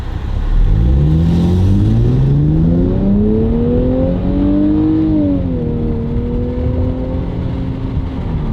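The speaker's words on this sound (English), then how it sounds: "No one told me the downshifts were that good" A modern Nissan Z with an automatic transmission revs up through a gear, then its engine blips and drops on a downshift, heard loud from inside the car as a smooth rising drone.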